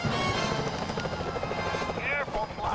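Security helicopters in the video game Sly Cooper: Thieves in Time, a loud, steady rotor chop with pulsing blade rhythm and whooshing, layered with game music and sound effects, with no talking.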